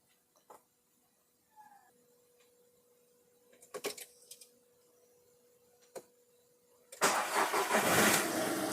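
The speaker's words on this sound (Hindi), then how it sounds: "गाड़ी को करते हैं स्टार्ट।" A few faint clicks and quiet handling sounds come first, then a VW diesel car fitted with newly programmed Delphi fuel injectors cranks and catches, bursting into a loud running engine.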